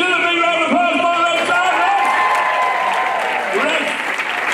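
Loud, sustained applause from a large audience at a dance competition heat, dense clapping with some crowd noise throughout.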